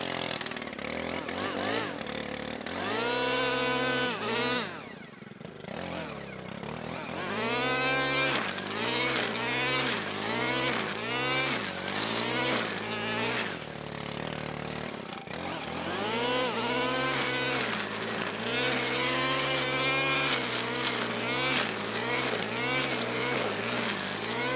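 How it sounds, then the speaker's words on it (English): A Stihl KombiSystem power head with a string trimmer attachment cuts tall grass, its engine droning loud and close with repeated rising and falling revs as it bogs and frees up, one brief dip in the middle. "I'm gonna fire it back up with the string trimmer attachment, and I'm gonna hit some of this tall grass"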